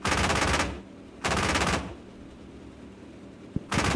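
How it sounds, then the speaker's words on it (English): The 20mm autocannon of a Marder A1 infantry fighting vehicle in a tank combat video game fires in three rapid bursts, loud and close, with a pause between them and a sharp single crack just before the last burst. "Would not want to be on the receiving end of this 20mm cannon."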